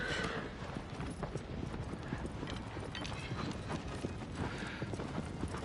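Galloping horse hooves from Shadow of the Colossus on PS5 pound in a steady, close, continuous clip-clop rhythm across the whole stretch, with no talk over them.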